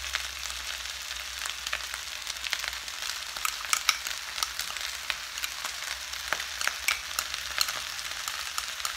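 Curry sauce sizzling and frying in a pan while cooking pineapple curry fried rice, a steady bright crackle with scattered sharp pops throughout, close and continuous with no talking.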